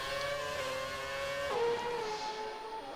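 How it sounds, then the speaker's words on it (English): High-pitched engine whine from Renault 2006 race cars in a racing video game, steady then dropping in pitch as a car passes, loud and continuous with no talk. "Just listen to the sound of these cars."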